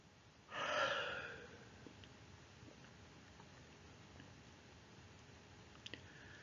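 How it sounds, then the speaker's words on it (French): A deliberate, exaggerated big yawn during a guided sophrology relaxation session, one broad breathy exhalation near the start that swells and fades over about a second, then near silence with faint small clicks. "Pour l'aider à se réveiller, nous accueillons un grand bâillement volontaire."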